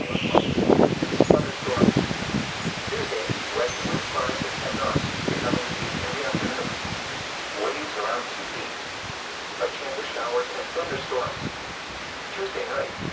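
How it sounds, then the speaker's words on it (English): Damaging winds ahead of a thunderstorm at sunset toss and rustle leaves in loud, gusty bursts, the noise slowly easing, with a dog whimpering and barking at times and people talking faintly. "Oh my god, there's more damaging winds here"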